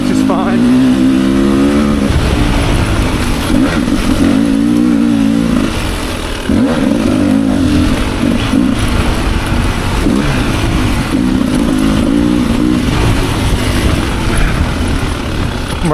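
A 2024 Beta 300RR Race Edition or KTM 300 XC-W dirt bike ridden on single-track trail, its engine loud and close throughout, rising and falling with throttle in steady revving surges.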